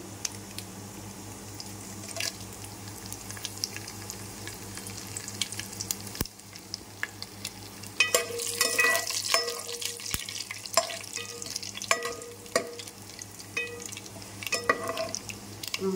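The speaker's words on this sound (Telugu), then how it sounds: "తాలింపులు వేగిందండి." Tempering spices and four dried red chillies frying in about three spoons of oil for Andhra-style sambar, a soft steady sizzle with crackling pops and stirring scrapes growing busier partway through.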